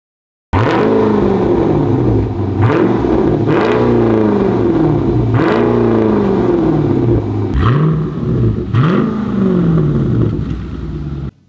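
A loud straight-piped Jeep SRT V8 exhaust with no mufflers or resonators and 5-inch tips revs repeatedly, the engine climbing and falling in several aggressive blips with a deep rumbling idle between them.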